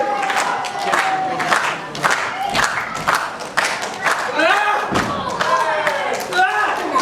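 A wrestling event crowd cheers and shouts in bursts, with thuds and slams from the ring mixed in and a commentator talking over the noise.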